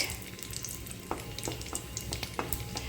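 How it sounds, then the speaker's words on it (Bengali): Whole cinnamon, cloves and cardamom sizzle in hot oil in a pan, a soft steady frying crackle with scattered sharper pops and stirring scrapes, fairly quiet and close. "এর মধ্যে ফোড়নটা দিয়ে দিচ্ছি দারচিনি লবঙ্গ এলাচ"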